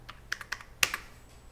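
Keystrokes tapped on a computer keyboard while entering a value during a 3D modeling session, a handful of quick, close, quiet clicks in a short uneven run with no talking.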